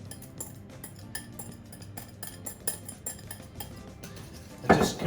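Egg yolks being combined into a thickened custard mixture for Portuguese pastel de nata tarts, with clinks and scrapes of a utensil against a metal pan or bowl, a steady close mixing clatter that grows louder at the end.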